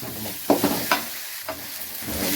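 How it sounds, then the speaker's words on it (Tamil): Onions deep frying in hot oil for mutton fry give a steady close sizzle, broken by a few stirring scrapes and clatters of a spoon against the pan. "டீப் ஃப்ரை பண்ணணும், அப்போ தான் நல்லா இருக்கும்."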